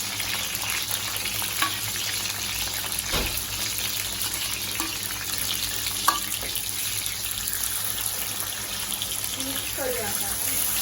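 Spice paste sizzles steadily in plenty of oil with bitter gourd for a curry, a close, continuous hiss broken by occasional clinks and scrapes of stirring.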